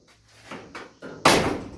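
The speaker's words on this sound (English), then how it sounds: "Hey, the door still opens and closes." Door of a 1967 Mustang fastback under restoration swinging on its hinges, a few light metallic clicks and knocks followed by a firm, close slam as it shuts.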